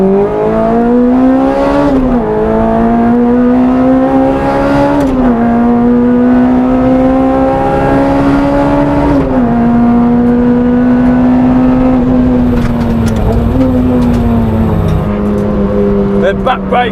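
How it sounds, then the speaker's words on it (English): Honda Integra DC5 Type R with a K20 engine revving hard on a race track, VTEC engaging, with a loud, continuous engine note that climbs and drops through gear changes over the whole stretch. "Literally stamp on the throttle, VTEC is pretty much there straight away, no waiting around for it"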